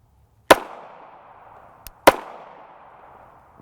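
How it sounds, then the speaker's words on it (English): 9mm pistol firing 124gr FMJ subsonic rounds, two sharp close shots about a second and a half apart, each with a decaying echo tail, and a small metallic click just before the second. "I want to start putting rounds through this gun to see if we can find any failures with it."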